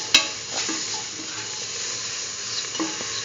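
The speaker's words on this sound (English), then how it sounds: "Mix thoroughly." A curried egg and mung bean stew with green chili is stirred in a pot, with a soft steady simmer, one sharp utensil clink at the start and faint scraping stirs.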